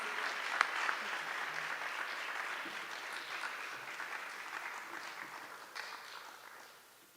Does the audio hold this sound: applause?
yes